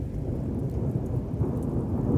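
A monsoon thunderstorm fills the air with a deep, continuous thunder rumble and steady rain falling on surfaces, loud and unbroken, with no talking.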